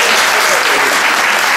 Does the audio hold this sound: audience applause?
yes